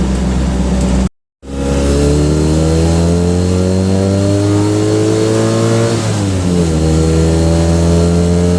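A Citroen 2CV race car's small engine revs hard through the gears on the road, rising pitch climbing steadily, a brief cut, then a shift and renewed acceleration, loud and close.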